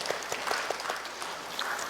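Church congregation applauding a deacon after the pastor asks for a round of applause; a short, moderately quiet patter of many hands clapping, steady throughout with scattered sharper claps.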